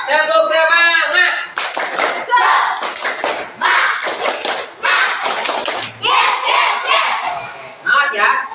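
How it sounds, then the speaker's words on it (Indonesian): A classroom group led by a teacher performs a "tepuk semangat" rhythmic clapping chant, sharp patterned claps alternating with shouted chanting by children, loud and close, with brief pauses between bursts. "Oke, sekali lagi ya. Tepuk semangat."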